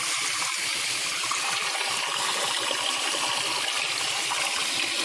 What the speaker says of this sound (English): See how the water just goes through without any problem.